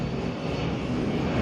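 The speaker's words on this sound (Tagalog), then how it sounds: "daming eroplano" An airplane passes over Manila Bay, heard as a loud, steady low rumble of engine noise mixed with wind, with no speech.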